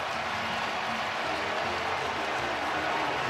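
Large baseball stadium crowd at a World Series game roaring steadily after a base hit, a dense continuous wash of distant cheering and applause with no clear talk.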